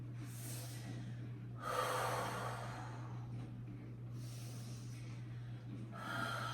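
Slow, deliberate breathing during a hip-opening yoga flow, with long audible inhales and exhales repeating in an even rhythm, close and fairly soft over a steady low hum, with no talking.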